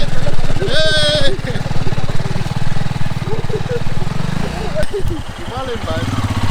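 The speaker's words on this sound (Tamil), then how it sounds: "ஹிமாலயன் தான் உள்ள போயிட்டு அடிக்குது. Power of Himalayan." A Royal Enfield Himalayan motorcycle engine revs hard and steadily while the bike is stuck in beach sand at Murudeshwar, loud and close, with voices talking over it and a brief high whine near the start.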